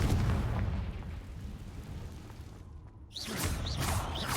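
Booming blasts from the Confringo fire spell in Hogwarts Legacy, a heavy rumbling detonation fading out, then a short silence before fresh crackling bursts and whooshing spell effects return.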